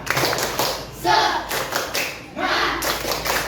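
Schoolchildren in a classroom repeat the 'tepuk semangat' rhythmic clapping routine, sharp patterned claps arriving in a few quick bursts with children's voices blended through.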